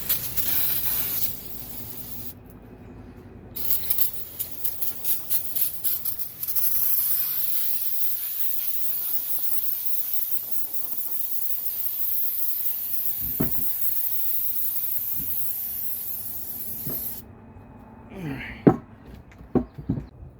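Brake cleaner sprayed from a can onto an oil pump part, a long hissing spray with a few brief pauses and bursts, close by, with scattered clicks and knocks of handling near the end.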